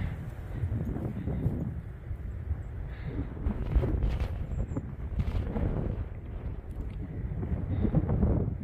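Strong wind gusting across the summit of a mountain trail on the Appalachian Trail, a loud rumbling roar buffeting the microphone in steady surges with no voices.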